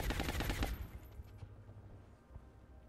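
Gunfire in the video game XCOM: a rapid automatic burst rattles loudly for under a second, then fades into a low rumbling tail and a faint later thump.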